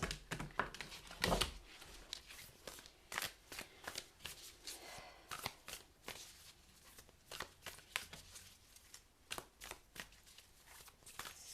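Spirit Animal Oracle cards being shuffled by hand in a quiet room, with repeated soft riffling and tapping bursts across the whole stretch and no talking.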